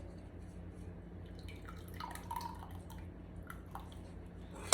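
Marinade for chicken trickles and drips into a measuring cup, a faint, steady liquid patter with scattered splashy drops, close by and without talk.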